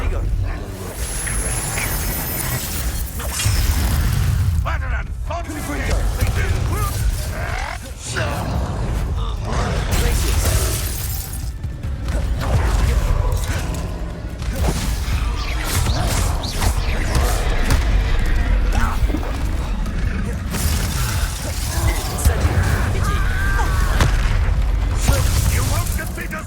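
Booming magical blasts from the Confringo spell in Hogwarts Legacy roll through a continuous loud battle soundscape, with repeated thuds and explosions mixed under character voices and combat chatter.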